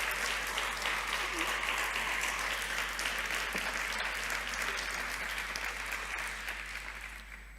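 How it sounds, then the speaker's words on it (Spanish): Steady, dense applause from a church congregation cheering in praise, sustained evenly throughout and tapering slightly near the end, with no clear speech over it. "dele un aplauso a Jesús"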